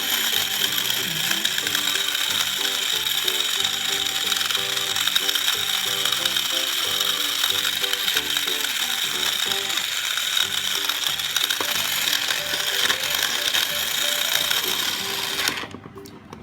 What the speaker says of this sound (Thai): เสียงปั่นน่ากลัวมากเลยค่ะ